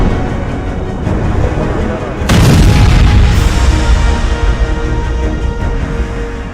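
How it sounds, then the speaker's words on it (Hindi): A powerful blast at a Hezbollah ammunition depot in Beirut erupts as a sudden deep boom over a dense, roaring background, then a sustained rumble that carries on without easing. "इजरायली सेना का धमाका"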